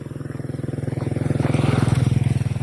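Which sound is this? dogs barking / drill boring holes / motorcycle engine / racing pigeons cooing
motorcycle engine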